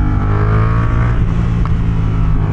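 A Yamaha R7 motorcycle exhaust rumbles loud and close, a deep steady throaty drone with strong low harmonics holding throughout without breaks.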